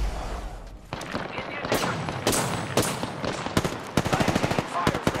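Rapid bursts of gunfire in the video game Apex Legends on Xbox One, loud automatic volleys and single shots in quick succession, with game voice lines in the background.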